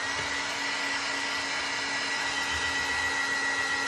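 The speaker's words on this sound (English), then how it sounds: "My heat gun is old." An old heat gun dries watercolor on a book page with a loud, steady whirring blast of air. A constant hum sits beneath the rush, close and unbroken throughout.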